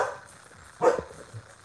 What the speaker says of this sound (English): And that's Phoebe barking.